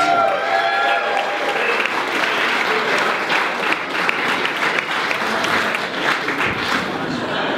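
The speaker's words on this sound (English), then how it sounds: "let's give a huge round of applause for Trenton" A crowd at a cycling team presentation and fundraiser claps and cheers loudly for a rider, dense sustained applause throughout with some voices mixed into the din.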